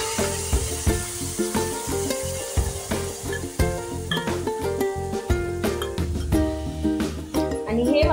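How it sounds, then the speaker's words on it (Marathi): A ground masala paste fries in oil with cumin and curry leaves in a pan over a medium flame, making a constant loud sizzle and hiss beneath rhythmic music, with occasional light clinks from stirring. "हे वाटण मीडियम फ्लेमवरती व्यवस्थित तेल सुटेपर्यंत छान परतून घ्यायचं आहे"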